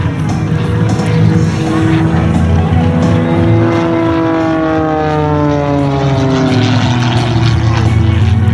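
Aerobatic propeller airplane at an airshow flying down the center of the runway, its droning engine note steady and loud, sweeping pitch downward across the pass as it goes by, continuous throughout.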